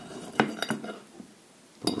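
A few sharp clinks of a fork against a plate while cutting meat with potatoes and mushrooms, close and fairly quiet, with scraping between the taps.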